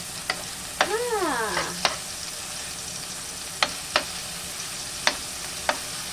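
Garlic sautés in a hot pan with a soft, steady sizzle. Sharp utensil clicks and scrapes break in at irregular moments, and a brief squeaky sweep sounds early on.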